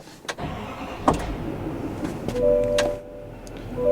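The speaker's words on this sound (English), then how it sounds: "let's go ahead and start it up." A diesel engine is started up nearby: a few clicks and a thump, then a steady running rumble that swells briefly before settling to idle.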